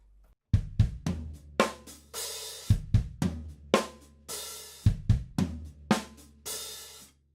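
A slow, open-handed drum kit groove: heavy double kick and floor tom hits with crisp snare and cymbal crashes, played alone in an uneven, deliberate rhythm.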